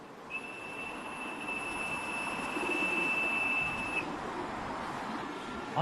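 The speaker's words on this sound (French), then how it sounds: "Ceux-là, là, c'est mes pigeons." Pigeons in an old Beijing hutong coo softly amid a steady outdoor hum, with a faint high whistle holding for several seconds before stopping, and no one speaking.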